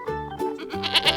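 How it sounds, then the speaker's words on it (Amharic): A goat bleats loudly and close by, a wavering nasal cry followed by a second, higher call, with no other sounds around it. "Is that how goat sound?"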